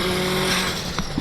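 Engine of an 1100hp Subaru STi revs hard and loud, holding a steady drone before a brief dip and sharp burst around a gear shift, no talk.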